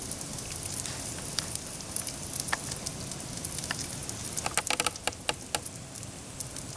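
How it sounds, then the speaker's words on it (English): Smoked sous vide T-bone steaks sizzle on a grill with a steady hiss and scattered sharp crackles and pops that grow busier toward the end, heard close up with no talking. "Can you hear it sizzle?"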